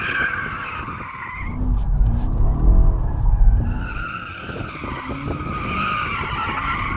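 A BMW M8 Competition Gran Coupe in rear-wheel-drive mode skids with a sustained, loud tyre squeal and roaring engine, the screech dipping briefly mid-slide before rising again.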